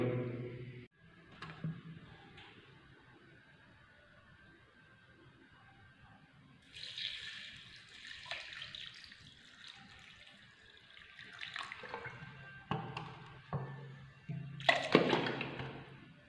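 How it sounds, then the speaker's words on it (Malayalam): Water is poured into a container of mango leaves and sugar for juice before blending. The pouring comes in short, splashing bursts between quiet stretches, fairly close and soft. "നമുക്ക് ഇത് അതിലേക്ക് ആവശ്യത്തിന് വെള്ളം ഒഴിക്കാം."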